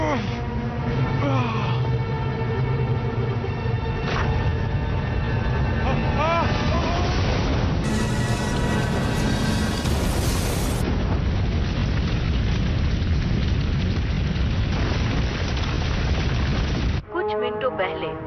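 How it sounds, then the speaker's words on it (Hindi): Gas pipeline explosion blasts in a Hollywood action movie dubbed in Hindi, heavy sustained rumbling booms filling the scene with dense low roar and bursts, under a busy soundtrack, ending abruptly. "गैस पाइपलाइन के फटने से बड़े धमाके सुनाई दिए"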